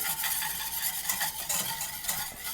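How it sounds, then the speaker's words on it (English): A whisk beats egg foam for hollandaise in a pan over the lowest heat, giving a fast, continuous scratchy swishing with rhythmic strokes, close and moderately loud, with no talking. "We're going to turn on our heat to the lowest setting and keep whisking."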